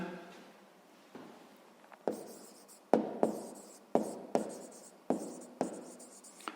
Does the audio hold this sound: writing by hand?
yes